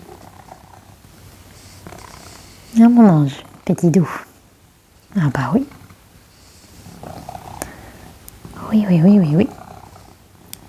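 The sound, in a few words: cat purring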